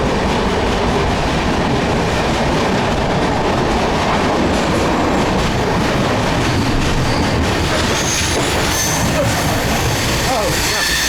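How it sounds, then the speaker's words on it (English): An Indian sleeper train runs on rails, heard from inside a carriage as a loud, continuous rumble with rhythmic clatter and occasional squeals, with a voice speaking over it. "Ah, what an insight to an Indian local train,"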